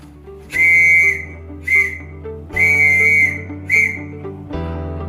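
Morse code letter C: steady electronic tones, two long beeps alternating with two short ones, long-short-long-short, clean and fairly loud with a low hum underneath.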